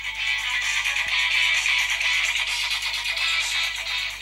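Music playing loud from the small built-in speaker of a Sony Ericsson W995 phone, thin and bright with almost no bass, running continuously with no talk over it.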